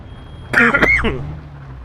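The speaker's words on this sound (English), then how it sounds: "Didn't mean to cough at you." A person clears their throat and coughs once, close and loud, after choking on a drink that went down too quickly, with a faint low hum underneath.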